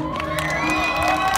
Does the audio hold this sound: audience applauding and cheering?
yes